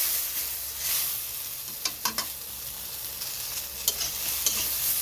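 Tomato frying with spices in a pan, a steady soft sizzle with occasional sharp clicks and scrapes from stirring, close and alone without talk.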